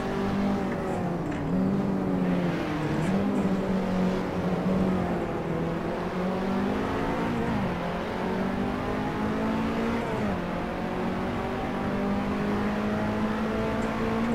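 Lotus 2-Eleven race car engine in the Assetto Corsa racing game, a loud continuous high-revving drone rising through gears with brief dips at shifts, sustained throughout.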